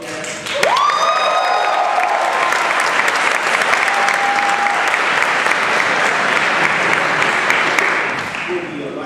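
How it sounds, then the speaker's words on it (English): A large convention audience at a Power Rangers panel claps in a loud, sustained round of applause with some cheering and whoops, holding steady for several seconds before easing off. "Everybody can do a round of applause again"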